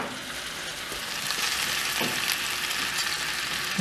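A moose roast sizzles and fries in a pan among pan-fried vegetables on an old wood cook stove, a steady close hiss with occasional small stirring knocks and pops, no talking.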